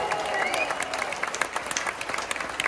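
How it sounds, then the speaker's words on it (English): An audience applauds an employee of the month on a ship, brief scattered clapping and cheering that thins into separate claps, with voices mixed in. "a round of applause"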